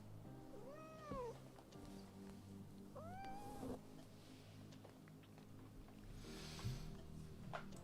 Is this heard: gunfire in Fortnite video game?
no